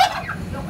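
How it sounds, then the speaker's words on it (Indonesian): A large turkey cock gives a single quick, close gobble, a short warbling burst lasting under a second. "Ini ayam kalkun"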